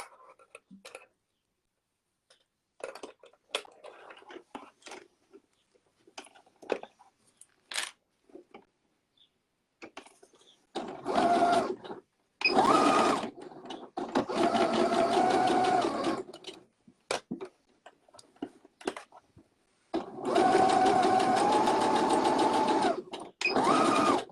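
A domestic sewing machine stitches the seam of a fabric bag, running in several long steady bursts of rapid mechanical whirring, close and loud, separated by quieter clicks and handling of the cloth.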